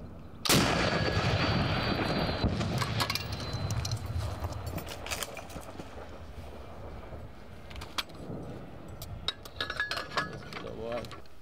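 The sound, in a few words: gunshot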